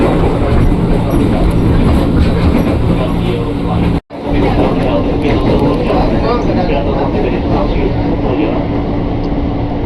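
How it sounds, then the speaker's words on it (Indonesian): A KRL commuter train leaves Pondok Ranji station in Jakarta, heard from onboard as a loud continuous rumble with faint clickety-clack. The sound cuts out for a brief gap at about four seconds. "Berangkat dari jalur 2 stasiun Pondok Ranji, komuter tujuan Tanah Abang."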